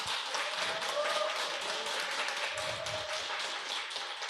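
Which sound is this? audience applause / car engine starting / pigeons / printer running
audience applause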